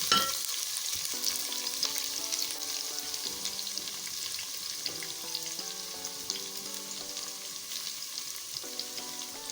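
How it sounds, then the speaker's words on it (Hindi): Onions sizzle gently in a pan while soft melodic background music plays throughout, the frying hiss staying steady and close. "एक बड़ा प्याज ले लें या 2 छोटे ले लें। इसको हल्का सा फ्राई करेंगे।"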